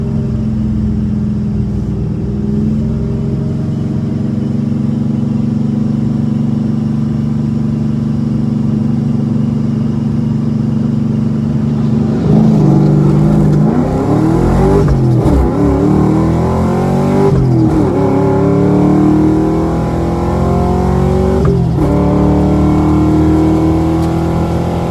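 Supercharged 500 HP New Edge Ford Mustang at the drag strip making its first pass, holding a steady loud idle before the clutch drops and the engine revs hard through repeated upshifts, close and alone without talk.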